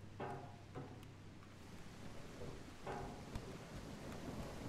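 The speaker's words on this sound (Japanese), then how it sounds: "今なんか雷が鳴ってる。" Thunder rumbles over steady rain in the horror game Abnormal Stairs, a few low rolling booms set against a constant wash of rainfall, fairly quiet and distant with no talking.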